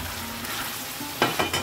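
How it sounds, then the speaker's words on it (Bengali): Prawns for a Bengali chingri malai curry hitting hot oil over cooked-down masala, a close, loud sizzle that flares in sharp bursts of spitting near the end, with no talking. "এবার আমি চিংড়ি মাছটা অ্যাড করে দেবো।"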